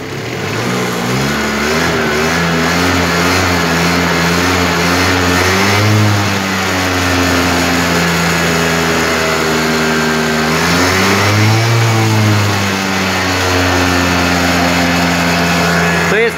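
Two-stroke scooter engine revving with a cold exhaust, a close buzzing engine rising and falling in pitch through repeated throttle blips over a steady idle.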